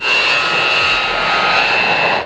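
Loud, steady jet engine roar of the Aerion AS2 supersonic business jet, a continuous whining rush with a high tonal whine on top, close and unbroken before cutting off at the end.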